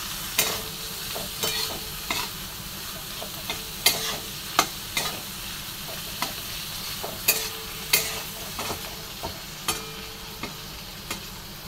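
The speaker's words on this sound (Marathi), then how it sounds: "आणि त्याचं आता मी काढलेलं आहे अशा परतून घेणार." Vermicelli sautéed in a pan, with a steady background sizzle and a regular series of sharp spatula taps and scrapes against the pan, close and unaccompanied by speech.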